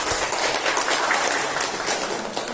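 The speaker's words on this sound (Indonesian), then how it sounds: "Kita kasih aplaus dulu untuk kelompok 2" Classroom applause for a student group, a dense, steady patter of many hands clapping at close range that holds evenly for a couple of seconds with no talk.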